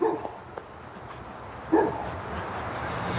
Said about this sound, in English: He's barking again on the front.